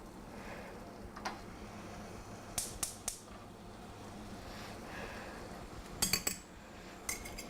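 A clean fork and other cutlery clink against each other in a quiet kitchen, close and sharp. The bright metallic taps come in small clusters with pauses between them, and no one talks.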